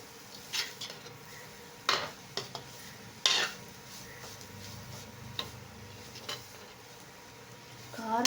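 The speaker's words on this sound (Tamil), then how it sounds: "இது ஒரு ஒரு ரெண்டு நிமிஷம் கிண்டி கொடுத்துட்டே இருங்க ரெண்டு நிமிஷத்தில் குக் ஆயிரும்" Carrot poriyal stirred in a pan: a spatula scrapes and clinks against the metal in scattered, irregular strokes over a faint, low sizzle, with no talking.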